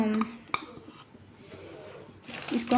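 Rice flour being worked into melted sugar in a pan for rice halwa, with a sharp utensil clink against the pan and soft scraping, brief and close, bracketed by a speaking voice at the start and end.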